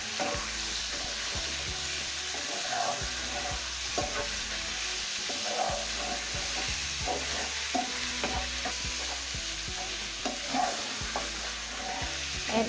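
Meat stirred with garlic, ginger and onions in a hot pan: continuous close sizzling and frying, broken by repeated scraping and clinking strokes of a utensil at an uneven rhythm, with no talking.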